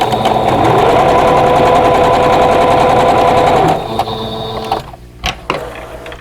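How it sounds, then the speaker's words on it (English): A sewing machine runs steadily and loudly, stitching vintage quilt block pieces for a strawberry basket block, then stops and gives a few short mechanical clicks and knocks. "Okay, now I can sew 5 and 6 of the top row together."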